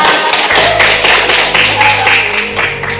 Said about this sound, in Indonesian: Ini tepuk tangan buat dia.